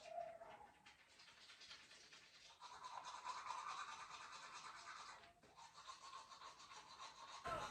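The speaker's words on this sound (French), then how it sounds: "Donc je vais aller me laver les dents et je reviens." Teeth being brushed with a toothbrush: a faint, continuous rapid scrubbing and rubbing heard close up, with no talking.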